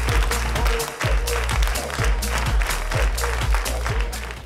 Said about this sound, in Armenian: Ուզում եմ բարձր ծափարենք Էմանուել Հակոբյան